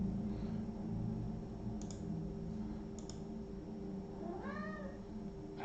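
A cat meows in a bright, rising-then-falling call near the end, close to the microphone, over a steady room hum with a couple of faint keyboard clicks earlier.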